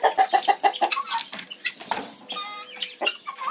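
Busy calls from guinea fowl and turkeys, a run of rapid repeated clucks and squawks followed by higher, more drawn-out cries, close by with no talking.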